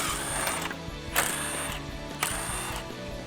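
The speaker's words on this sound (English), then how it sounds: "The next step here is to unbolt our factory upper grille from the top underneath of our radiator shroud." Ratchet loosening the factory upper grille bolts on a 2013-2018 Ram truck, heard as a rapid, steady clicking of the pawl, with a few brief louder scrapes over the mechanical ticking.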